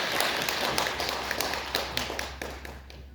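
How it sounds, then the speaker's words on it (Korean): Congregation clapping during a Sunday church worship service: steady, dense clapping from many hands over a low room hum, with a few sharper claps standing out and the sound fading slightly toward the end. "하나님께 영광의 박수 올려드리겠습니다"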